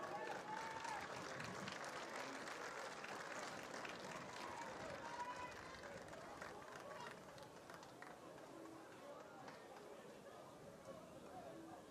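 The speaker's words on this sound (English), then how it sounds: "a round of applause for Berkeley Wagner." Crowd at a college football playoff game, Washington and Jefferson at Susquehanna, applauding and cheering loudly and steadily throughout, a dense wash of clapping and voices that eases slightly toward the end.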